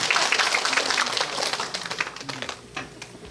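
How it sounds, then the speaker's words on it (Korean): An audience at a biodiversity survey sharing event on Geumjeongsan in Busan breaks into brief applause, a dense burst of clapping that starts full and thins out and fades within about three seconds. "힘찬 박수 부탁드립니다."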